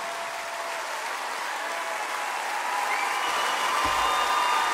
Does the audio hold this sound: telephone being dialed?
no